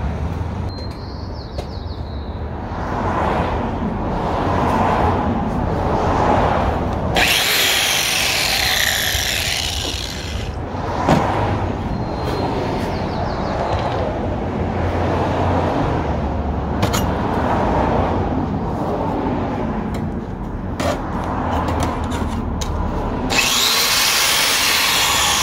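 A small power tool grinds and smooths a homemade plastic GoPro cap mount bracket, buzzing in uneven bursts with brief pauses between passes, close and fairly loud.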